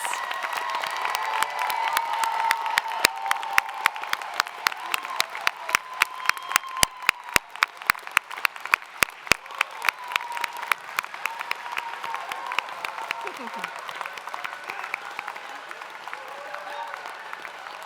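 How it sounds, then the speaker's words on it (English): A large convocation audience applauds the Fall 2025 graduating class, a sustained, dense wash of clapping lasting the whole stretch with sharp individual claps standing out near the front and a few voices rising briefly within the crowd. "let's give a final round of applause to the Fall 2025 graduating class"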